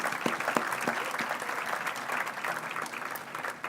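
Steady applause from a banquet crowd honoring teachers, many hands clapping together with a few sharper individual claps standing out, sustained for several seconds before easing.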